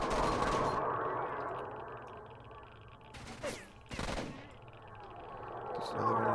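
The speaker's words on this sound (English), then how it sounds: "Oh, he has a shotgun." Shotgun blasts in the video game S.T.A.L.K.E.R. Shadow of Chernobyl: two sharp, loud reports a moment apart, set against a low ambient in-game rumble.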